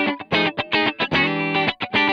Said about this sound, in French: On récupère évidemment du claquant grâce au micro chevalet.